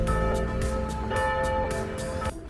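Church bells ring continuously from a small church in Remscheid-Lennep, a dense, sustained peal of overlapping tolls heard at moderate distance with no speech over it.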